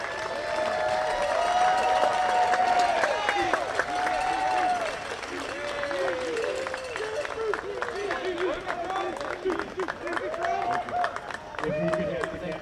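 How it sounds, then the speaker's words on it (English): Crowd applause at a box lacrosse playoff championship presentation, scattered clapping and cheers in an arena amid lively chatter and shouted voices, with sneakers squeaking on the floor. "If we could have a round of applause for both teams"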